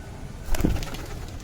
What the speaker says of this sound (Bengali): তো এবার আমরা সব কবুতর ছেড়ে দেবো